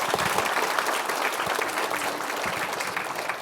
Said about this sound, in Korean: 김현기 의장님께 다시 한번 큰 박수 부탁드리겠습니다.